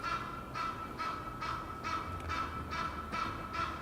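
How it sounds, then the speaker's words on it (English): A bird honks again and again in a steady rhythm, about two calls per second, over faint background noise. "I can't even see the bird, I just hear it."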